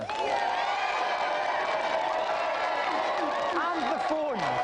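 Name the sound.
audience applause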